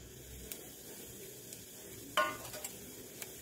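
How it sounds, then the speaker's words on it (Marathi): Cloves, shahjeera, black peppercorns, cinnamon and small cardamoms sizzle softly in hot oil for aloo pulao, a steady low crackle with a few sharp pops and one louder spatter, heard alone. "तेल छान गरम झालेले आहे, तर मी तेलात टाकून घेते 5-7 लवंगा, अर्धा चम्मच शहाजिरी, मिरी टाकून घेते 8-10, थोडी दालचिनी आणि 2 छोटी इलायची।"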